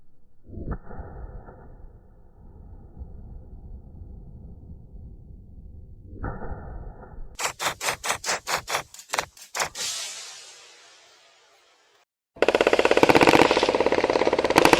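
Rifle gunfire: a quick string of about eight loud, sharp shots with a muzzle brake fitted, then a fading tail, a brief silence and a dense burst of suppressed firing at the end, over a low background hum.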